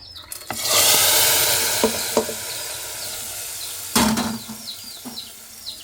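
A tempering of mustard seeds and curry leaves poured into a mango and dried prawn curry bursts into a loud sizzle that fades to a steady hiss, with sharp clanks of a utensil against the pot.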